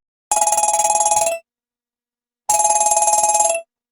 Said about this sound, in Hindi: जमुना काकी अपनी दुकान का आखिरी ताला लगा ही रही थी कि मोबाइल बज उठा।